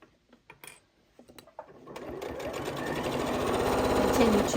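Janome 8200 QCP sewing machine stitching fabric past darts on a bowl cozy, a few soft taps and clicks building into a steady, close whirring run of rapid stitches.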